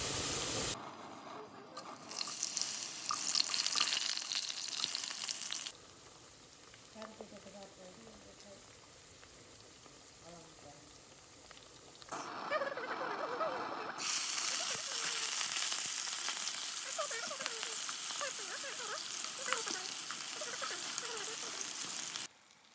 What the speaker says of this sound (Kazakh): Сәбізді қуырамыз енді.